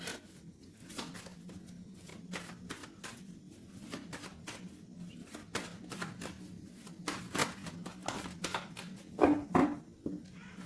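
Tarot deck shuffled and cut by hand, a run of soft, crisp card slaps and riffles in an uneven rhythm, close and fairly quiet, with a low steady hum underneath.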